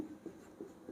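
Chalk or a pen strokes across a board in short, quiet scratches, four light marks in an uneven rhythm, close by with no voices.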